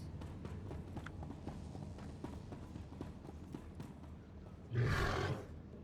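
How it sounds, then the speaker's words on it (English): Horse mount ridden in the video game SWTOR, with steady clip-clop hoofbeats under a game soundscape and a louder whoosh or snort burst near the end. "Gotta ride my horse out."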